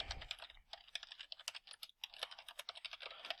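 Quiet, rapid keystrokes clatter on a computer keyboard as text is typed into a banner headline field, irregular bursts of clicks with brief pauses and no talking.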